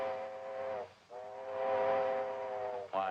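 Steam train whistle in a Western town setting, a long sustained harmonic blast that cuts off briefly, resumes and holds, then starts again at the end, loud and close over a low rumble of the arriving train.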